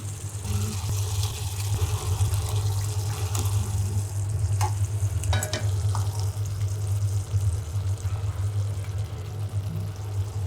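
Fish pieces fry steadily in a pan with oil, a continuous close sizzle and bubbling under low kitchen hum, with a few faint clinks along the way.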